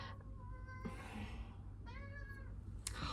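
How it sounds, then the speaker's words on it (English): A house cat gives two short, clear meows close by, separated by a pause, over a low background hum. "Hi, Kitty."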